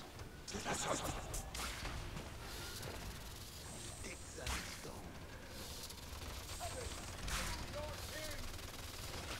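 Rapid bursts of Paladins gunfire crackle through a busy mix, with a few sharper shots standing out over steady background noise and no clear talking.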